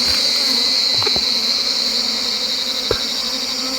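Forest bees swarm out of a hollow tree hive after being smoked, a dense steady buzzing drone filling the scene with a few faint knocks and clicks underneath.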